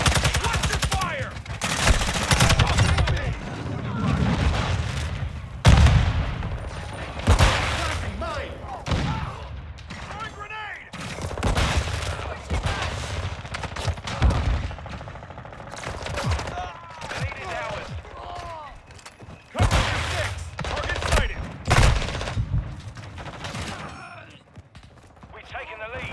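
Repeated bursts of gunfire in Call of Duty Modern Warfare 2 (2022), sharp shots and rapid volleys scattered through the stretch, loud and close, with a voice talking over the action at times.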